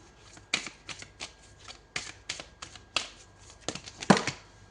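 Tarot cards are shuffled in quick riffling bursts, about ten crisp flutters in an irregular rhythm, close and fairly quiet, with no speech.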